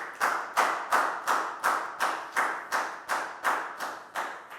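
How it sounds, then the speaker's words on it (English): A classroom claps for a pupil in a slow, even rhythm of about eleven crisp unison claps, each sharp and distinct with a short decay, fairly close and alone. "Big round of applause for Dan"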